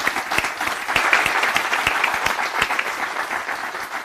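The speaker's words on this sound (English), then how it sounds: "So I would ask if we just put our hands together as a round of applause for Stephen and his contribution" Audience at the Involve Kent 2022 annual general meeting gives a round of applause: dense, steady clapping from many hands that holds for about four seconds, with no talking over it.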